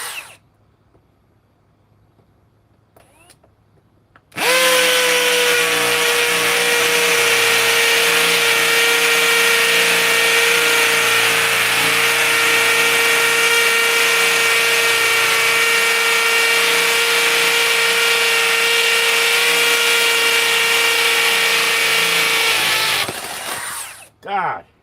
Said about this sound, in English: probably beating the drill up too doing this